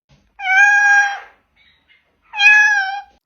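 A small wildcat meowing: two clear, close, drawn-out meows separated by a short pause, loud against silence.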